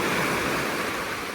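Sea waves wash onto the shore at a beach on Penang Island, Malaysia, heard as a brief, steady rush of surf with no voices.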